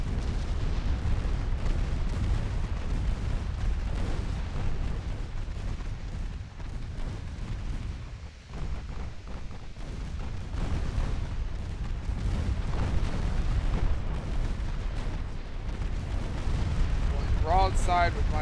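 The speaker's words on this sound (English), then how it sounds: "Broadside with my battleships." Battleships fire broadsides in a naval battle in the Ultimate Admiral Dreadnoughts game, producing a sustained, heavy rumble of gunfire and explosions that continues without a break.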